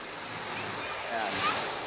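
Open sea during island hopping at Caramoan, a steady wash of waves and wind noise with a slight swell near the end, moderately loud and continuous.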